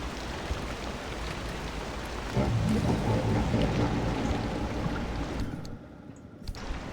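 Rain falls steadily in the video game Pacific Drive, a dense hiss with pattering drops that swells midway and then drops off abruptly near the end.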